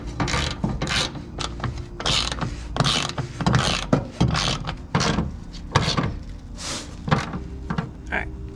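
A ratchet tightens bolts on a Miata six-speed transmission, giving repeated clicking bursts with short pauses, close by, mixed with some mechanical rattling and faint speech.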